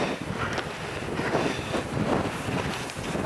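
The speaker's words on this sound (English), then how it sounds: "Oh, it's windy. Proper windy." Strong gusty wind on a beach buffeting the microphone, a rumbling roar that swells and dips in waves for the whole stretch, no talking.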